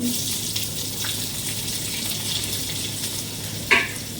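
Chopped onion hits a little oil in a pan for mutton curry, giving a soft, steady sizzle with a brief utensil clatter near the end.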